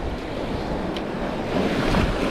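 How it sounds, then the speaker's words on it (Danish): Sea waves break on the rocky Öland coast, a continuous rushing surf growing louder toward the end, mixed with wind buffeting the microphone, with no talk. "det er bølger her, mand"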